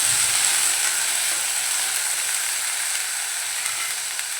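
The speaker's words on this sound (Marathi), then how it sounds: "परतवून घेऊया।" Peeled sprouted val beans sauté with browned onion in a pan for a Malvani birde, giving a steady, even sizzle with faint stirring scrapes throughout, no talking.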